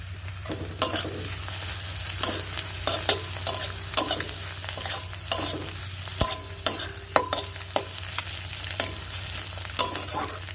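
Steady frying sizzle in oil with repeated scraping and stirring clicks from a utensil in the pan, close by, no talking.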